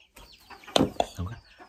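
Chickens being fed let out a few short, close clucks in quick succession, with faint rustling between them and no talking.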